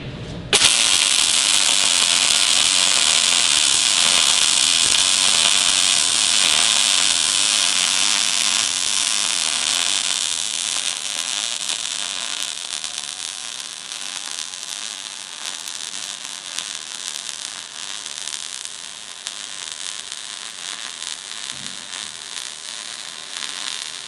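An arc welder burning a bead, heard through a Blue Demon True View PANO welding helmet setup: a loud, steady crackling hiss that holds for about twenty-four seconds and eases slightly toward the end, with no talking.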